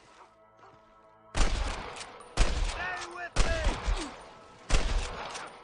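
Gunfire in the Western video game Red Dead Redemption: four or five heavy, booming shots fired at irregular intervals, each with a lingering tail, over a quiet musical bed, with a voice shouting between shots.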